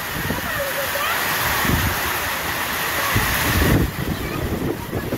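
Strong gusting wind sweeps through sugarcane and coconut trees ahead of heavy rain, roaring continuously and buffeting the microphone with loud, rough rushes. A voice may be faintly present beneath it.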